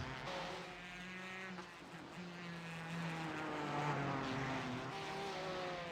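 A Ford GT race car engine in a sim racing game at Detroit's tight street circuit, a steady, fairly faint high-pitched whine with rising and falling gear tones as the car accelerates and shifts.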